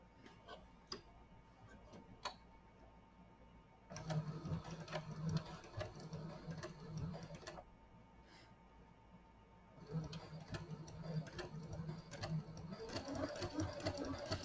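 A sewing machine stitches a see-through project pouch in bursts, its rapid ticking needle running for a few seconds, pausing, then starting again, fairly close and moderately loud.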